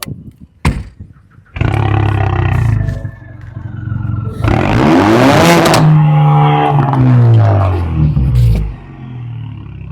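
A modified Ford Mustang with reworked exhaust fires up after a couple of sharp clicks and settles into a loud, close, rumbling idle, then blips and revs hard with rising and falling roars before easing off.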